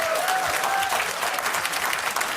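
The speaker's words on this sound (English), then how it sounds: "How could you applaud that?" A studio audience bursts into sustained applause, a dense wash of clapping at steady loudness with a faint voice briefly heard underneath.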